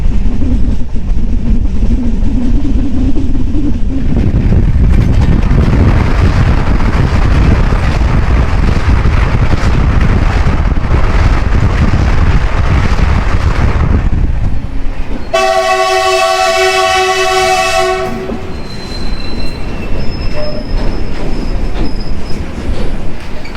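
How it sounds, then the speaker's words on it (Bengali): A Howrah–NJP special train rumbles and clatters loudly along the tracks, then sounds a long, blaring horn as it slows into New Jalpaiguri station, its wheels grinding on. "আমাদের ট্রেনটা এখন এনজিপি স্টেশনে ঢুকতে চলেছে"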